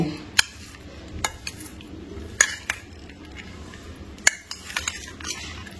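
A spoon mixes a sprouted moth bean salad in a bowl, giving sharp intermittent clinks and scrapes against the dish with soft stirring between them, close by and without speech.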